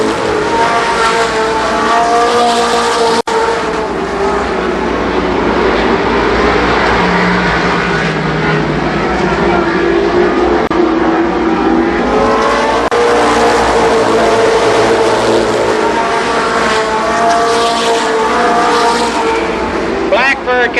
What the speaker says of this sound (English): Here comes Bussy Blackford in car number 5 on the outside.